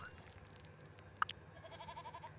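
A small goat in a video game gives a couple of short bleats partway through, set against a quiet ambient background with faint chimes.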